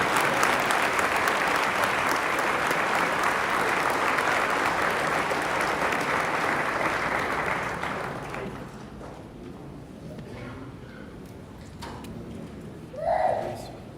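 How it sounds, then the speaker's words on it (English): Loud, dense applause fills a memorial celebration of life for Suresh Patel, sustained for about eight seconds before fading into quieter room noise with a brief murmur near the end. "I want to start the event with a loud applause in respect of Suresh Bhai's life"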